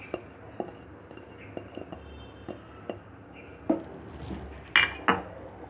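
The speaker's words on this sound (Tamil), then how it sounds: "நல்லா விட்டு கிளறிக்கிட்டே வரணும்" Ghee Mysore pak mixture is stirred in a pan, giving scattered light clinks and scrapes of a utensil against the metal, with a few louder knocks near the end and no voices.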